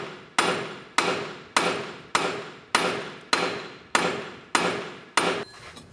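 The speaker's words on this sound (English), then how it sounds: "take a large punch and hammer right at the top of the knuckle" Nine sharp metallic hammer blows on a punch against the steel steering knuckle of a Mini Cooper, struck at a steady, even rhythm about every half second, loud and close with short ringing decays.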